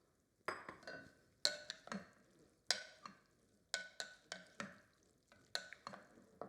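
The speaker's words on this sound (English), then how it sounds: "Give it a stir." Spoon stirring a warm farro grain salad with dressing in a bowl, giving quiet, close scraping and soft clinking strokes in an irregular rhythm, with no voices.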